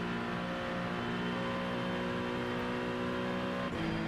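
Ford Mustang GT3 race car in the iRacing sim, its engine droning at a steady, sustained pitch throughout, with a brief dip and shift near the end as if changing gear.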